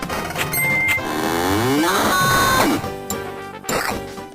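A cartoonish cow moo rings out in a video game as the cow is launched through the air and crushes a princess, a drawn-out bellowing call with swooping tones layered over busy game music and effects.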